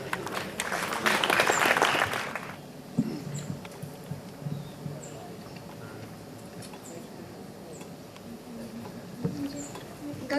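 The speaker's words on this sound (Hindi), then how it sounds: "जोरदार तालियों से अभिनंदन।" Brief burst of applause from an audience at a district-level school talent search event, loud for about two seconds and then fading into quiet room noise with scattered faint knocks.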